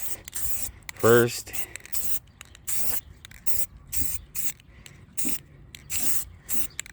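Spray paint hissing in short bursts as a light coat goes onto an old spare tire from a 1970 Jayco pop-up camper, intermittent close sprays with a brief spoken word early on.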